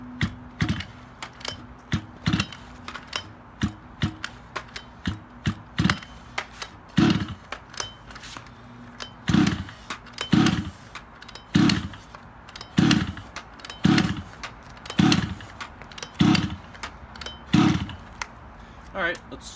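A Rovan Baja 5b 29cc RC car engine being pull-started without choke, a series of short, sharp rhythmic pull-and-sputter bursts repeating about every second, loud and close with a voice talking between them.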